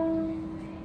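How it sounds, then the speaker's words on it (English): A single plucked viola note stopped with the first finger, a short close ringing tone that fades quickly into a faint room hiss. "I'm gonna lift my second finger off, and my first finger will be the only one on the tape"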